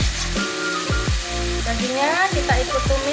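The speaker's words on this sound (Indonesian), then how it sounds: "Jadi dagingnya kita ikut tumis." Beef stir-frying with fragrant spice paste in a pan for Tegal-style daging bumbu age, a steady sizzle broken by scraping stirs, with a voice and a rising tone over it.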